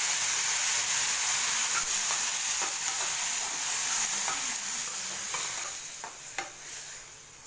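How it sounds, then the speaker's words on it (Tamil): Crushed garlic cloves and chopped tomatoes sauté in hot oil, giving a steady close sizzle and hiss. Spoon scrapes and stirring clicks come through now and then, and the frying eases slightly toward the end. "அதே எண்ணெயில் 15 பல் பூண்டை போட்டு வதக்கிக்கோங்க. இது கூட நறுக்கின 2 தக்காளியை சேர்த்து நல்லா வதக்கிக்கோங்க."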